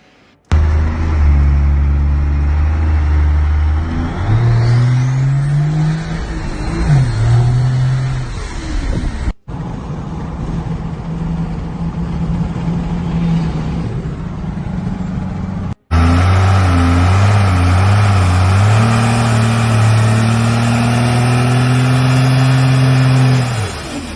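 Engine of a truck being revved hard, loud and close, with rising and falling pitch sweeps through several throttle pulls across the whole stretch and no talking.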